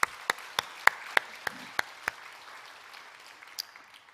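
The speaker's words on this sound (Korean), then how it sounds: "어제 애쓰신 분들을 위해서 뜨거운 박수" A few people clap slowly in a church service to thank those who helped at a church event the day before, about eight separate, evenly spaced claps that stop after two seconds, leaving quiet room tone.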